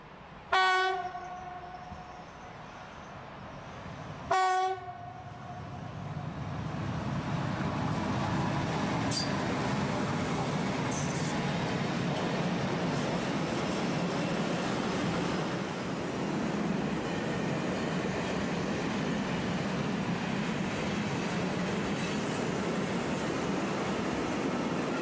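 A train horn sounds twice in short blasts, then a long freight train of oil tank cars hauled by a DB class 155 electric locomotive rumbles and clatters steadily past at close range, at Falkenberg an der Elster.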